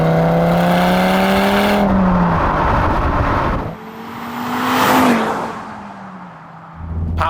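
A 2013 Audi TT RS with its 2.5-litre turbocharged five-cylinder engine revs loudly and close by, the pitch climbing and falling through several throttle blips with no talking.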